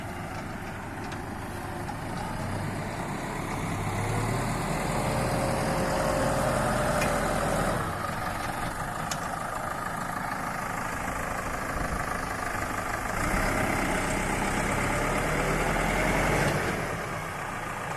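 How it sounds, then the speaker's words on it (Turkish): A tractor engine with a front loader runs steadily at a low idle, a continuous rumbling drone with slight rises in intensity, with no talking. "Şimdi kepçeyle saman toplayacağız arkadaşlar."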